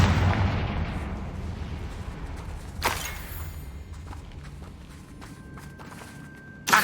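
Confringo blasting spell explosion in the video game Hogwarts Legacy, a sharp blast around midway bursting over a dense rumbling combat din, with another sudden burst at the very end.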